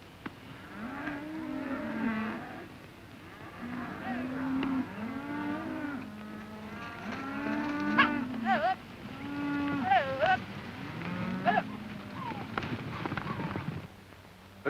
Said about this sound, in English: And Benson, don't push the cattle too hard.